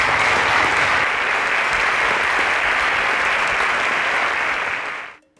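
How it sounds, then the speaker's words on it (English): A studio audience at a televised contest claps for the contestants in a dense, steady burst of applause that fills the room, then cuts off abruptly. "A round of applause for Israel, please."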